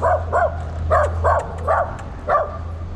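A dog in a park in Peru barks six times in quick, uneven yaps, fairly close and loud over a low background hum.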